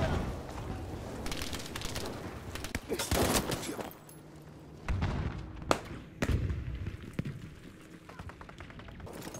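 Gunfire in the shooter Battlefield V comes as bursts of shots and sharp cracks, some close and some distant, mixed with thuds and game ambience, while a player talks over the action.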